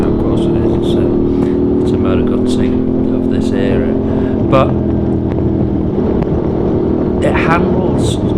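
A Moto Guzzi V11 Sport Coppa Italia V-twin motorcycle runs steadily on an open road, with a constant engine drone and wind rush while a rider talks over it.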